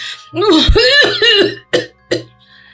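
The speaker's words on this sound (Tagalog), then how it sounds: "Parang sinusumpong na naman ako ng ubo" A person makes a strained, voiced cough-like outburst, followed by two short sharp coughs, close and loud.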